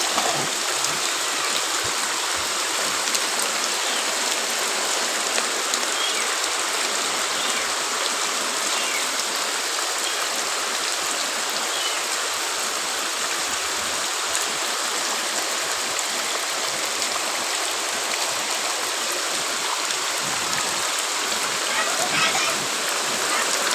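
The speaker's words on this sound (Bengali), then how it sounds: "আরে ভাই আমার চাপাই নবাবগঞ্জের বৃষ্টি" Heavy rain pours steadily in Chapai Nawabganj as a house floods, a dense, loud continuous hiss and rush of water lasting throughout without letup.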